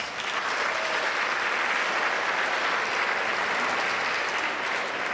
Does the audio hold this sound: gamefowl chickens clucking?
no